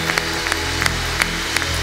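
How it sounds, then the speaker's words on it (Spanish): Church congregation clapping for the Lord during a Spanish-language sermon, a fairly quiet patter of hand claps with a few sharper individual claps over a low steady hum, brief and without talk. "Dale un aplauso fuerte al Señor."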